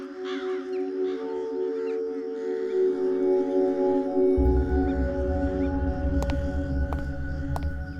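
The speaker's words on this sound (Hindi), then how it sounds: "ये कौवे यहाँ पर ऐसे ही रहते हैं क्या? इनकी काँव ने मेरा सिर दुखा दिया है।" Crows caw repeatedly at close range, their harsh calls layered over a low steady hum that swells partway through, with no talk.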